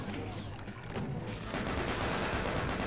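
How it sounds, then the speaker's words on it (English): Chaingunner enemy in Doom firing its chaingun, a dense continuous rattle of rapid gunfire that grows louder and fuller after the first second and a half, with no talk over it. "Oh, chain gunner."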